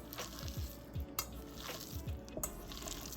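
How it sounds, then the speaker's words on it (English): Ground pork and venison mixed lightly by hand in a bowl, making soft, close, wet squishing and squelching sounds in irregular repeated pulses, with no talk. "Just gonna combine that really lightly. I don't want to over mix the meat."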